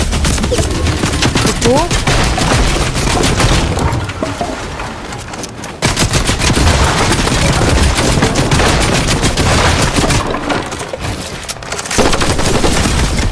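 Rapid bursts of gunfire from the video game Fortnite, loud and dense almost throughout, with a short dip in the middle; a voice briefly speaks over it.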